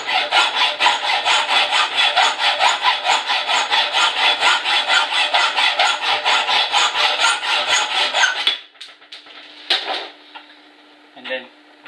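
A hand saw cuts off the protruding end of a threaded bolt, fast steady back-and-forth strokes for about eight seconds, close and loud, then stopping with a few light scrapes and knocks.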